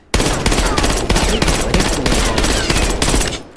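A burst-fire gun in Call of Duty Black Ops 6 shoots in rapid, loud, tightly spaced rounds, nearly continuous for over three seconds before stopping abruptly.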